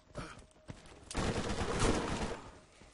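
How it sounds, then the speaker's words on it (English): Shotgun fire in the Borderlands video game: a couple of short early blasts, then a dense, loud burst of rapid overlapping gunshots that swells and slowly fades out. "Quick scope with a shotgun."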